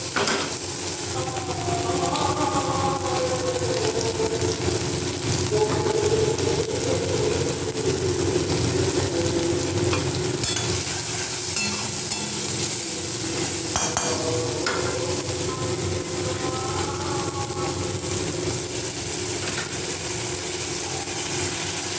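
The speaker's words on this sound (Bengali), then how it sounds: "আদা পেঁয়াজ জিরে বাটাটাও দিয়ে দিলাম। কিছু একসাথে ভেজে নেব।" Ginger, onion and cumin paste frying in a pan for a fish curry, steady loud sizzling with stirring and scraping throughout, close, with faint voices or background sounds at times.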